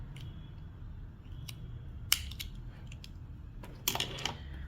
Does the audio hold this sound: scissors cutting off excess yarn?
yes